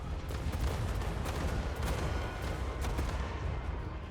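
Continuous booming barrage of ancient stegodon artillery shots in a Total War battle, dense and rumbling with a few sharper cracks standing out, loud and sustained throughout.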